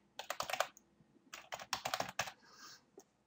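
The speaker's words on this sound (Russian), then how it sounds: "Вводим секретный пароль." A password is typed on a computer keyboard in quick bursts of crisp, close key clicks with short pauses between clusters, quiet and alone.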